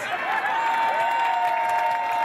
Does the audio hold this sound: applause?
yes